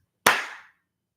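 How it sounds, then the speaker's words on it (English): One sharp hand clap, close and loud, with a short ringing decay into silence. "I might clap again, but it'd be like this."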